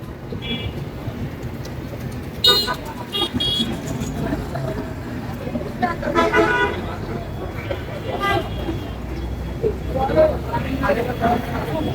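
Busy traffic on the Dhaka–Saidpur highway with repeated honking horns from passing cars and buses, a steady road rumble and people talking nearby.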